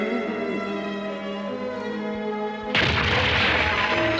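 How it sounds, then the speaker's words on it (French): Cartoon cannon fire erupts as a sudden heavy boom and sustained rumbling blast, loud and close, cutting in after a stretch of orchestral music. "Ils reviennent avec leurs terribles canons!"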